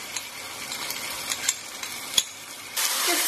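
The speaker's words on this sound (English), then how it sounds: "Stir this through till it releases its aroma" Ginger garlic paste stirred into caramelized onions frying in a pan, with scattered spoon clicks and scrapes over a sizzle that swells louder at the end.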